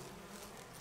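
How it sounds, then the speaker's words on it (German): Buzzing of a large beehive in the Resident Evil HD Remaster game, a faint steady insect drone heard briefly and alone. "Sie sehen einen großen Bienenstock."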